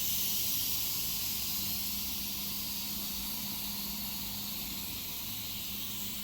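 A pressure cooker holding an eggplant and potato curry lets off a steady, loud, unbroken hiss of steam with a low hum beneath it, no voices over it.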